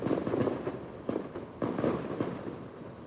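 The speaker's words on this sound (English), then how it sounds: "someone's doing fireworks right now." Outdoor fireworks going off in a rapid series of deep booms and crackling bursts, several overlapping reports over a few seconds, heard from some distance with no talk.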